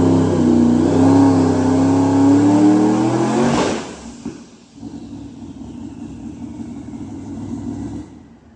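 Loud twin turbo LS car engine revving hard on a dyno, a rising strained roar that suddenly cuts off, then settles into a lower, rumbling idle.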